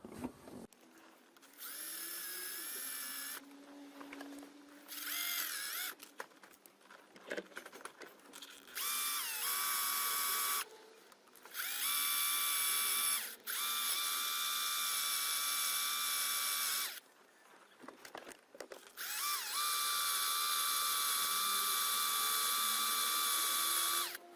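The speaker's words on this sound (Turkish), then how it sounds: "ben bunun ucunu ortasını biraz deldim" A small power drill bores into the center of a transparent plastic gear shift knob, whining loudly in repeated long bursts separated by short pauses, close up with no talking.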